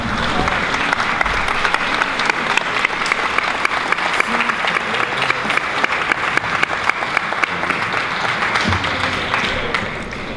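Loud, dense applause from a large audience at a theological pastoral congress, a continuous roar of many hands clapping that holds steady throughout before easing slightly at the end.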